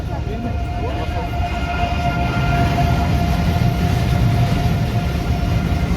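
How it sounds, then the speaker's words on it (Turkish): A train rumbles past close by on a bridge over the Rhine in Cologne, a heavy continuous low roar of wheels on track with metallic ringing tones above it. "Her tren geçtiğinde sallanıyor bayağı ama."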